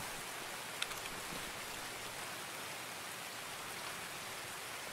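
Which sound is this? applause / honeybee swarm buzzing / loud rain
loud rain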